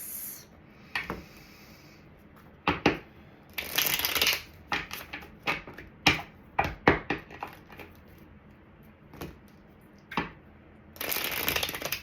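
Tarot cards being shuffled by hand, with bursts of riffling and crisp slaps and rubs of the deck, some longer rustling runs among sharp snaps, close and fairly loud with no talking.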